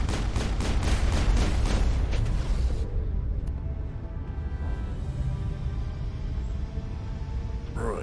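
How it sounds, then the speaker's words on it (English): Guard pistol fire in the Mass Effect video game, a rapid burst of loud, sharp shots at the start, then a quieter low rumble with a faint later report. "One shot to the head with a guard pistol."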